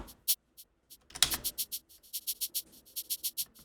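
A soft, crisp shaker plays a quick rhythmic pattern of short high hissing strokes, sparse at first and then steady.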